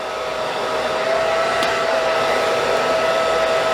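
Hair dryer blowing steadily up close while a stylist blow dries an A-line haircut with a round brush, a continuous loud whooshing hum without pause.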